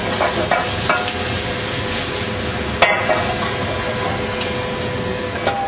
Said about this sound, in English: so the mushrooms are fried rather than blanched in their own juice